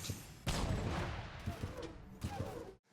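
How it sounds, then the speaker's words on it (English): Rocket launcher fired in the Shadowrun first-person shooter game, a sudden loud blast with a rushing roar that tails off, followed by a second burst and an abrupt cutoff. "The sound of a rocket launcher being fired is very unique, so go into smoke if you hear it."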